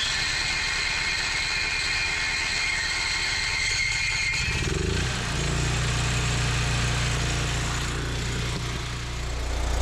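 A small gas engine catches after a few seconds of cranking and rough sputtering, then settles into a steady, loud, close-up running drone with slight throttle variation.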